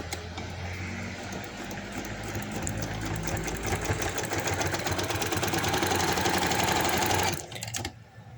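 A sewing machine stitches the margin of a handkerchief baby frock in one continuous run, a close, rapid mechanical whirr with rhythmic needle clatter that builds slightly, then stops abruptly near the end.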